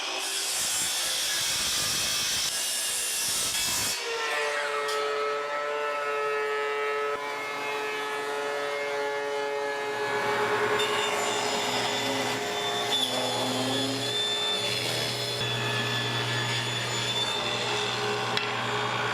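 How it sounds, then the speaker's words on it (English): Woodworking machines mill 2x6 lumber, starting with a harsh burst of cutting noise that gives way to a steady, loud machine whine and hum with shifting tones, with no talk. "I just have to go through the process of milling 2 more lengths of 2x6 now."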